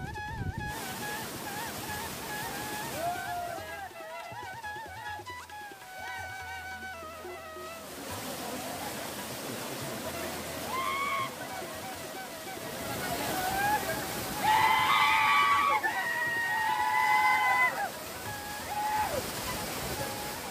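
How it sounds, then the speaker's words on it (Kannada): Bhairappa Falls, a small waterfall in Kalghatgi in Dharwad district, gives a steady broad rush of falling water throughout, under voices and other tonal sounds that swell louder toward the later part. "ನಮ್ಮ ಧಾರವಾಡ ಜಿಲ್ಲಾದೊಳಗನ ಇದೊಂದು ಕಿರು ಫಾಲ್ಸ್ ಆಗಿ ನಿರ್ಮಾಣಗೊಂಡೈತಿ"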